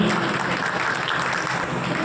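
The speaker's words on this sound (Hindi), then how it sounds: "तालियां बजाइए।" Steady, dense clapping fills a hall at an award ceremony in Pilkhva, loud and unbroken for the whole stretch.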